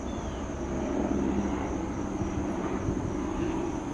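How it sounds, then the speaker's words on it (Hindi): A helicopter passes overhead, its engine and rotor noise forming a steady, fairly loud broadband rumble that stays constant for the whole stretch with no voices over it. "आवाज आती है हेलीकॉप्टर।"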